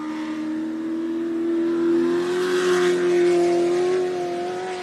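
Off-road desert race car at a 4WP qualifying starting line, its engine revving in a strong sustained roar that swells in the middle and eases slightly, heard up close with no talk.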